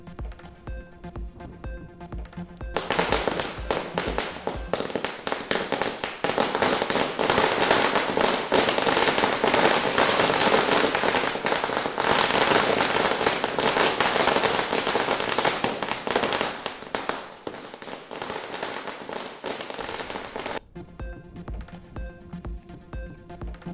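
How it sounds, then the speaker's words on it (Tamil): Dense strings of Diwali firecrackers in Chennai burst continuously for about twenty seconds, a rapid crackling barrage that starts abruptly and cuts off, with quieter surroundings before and after. "வண்ண வண்ண பட்டாசுகளை வெடித்து கொண்டாட்டம்."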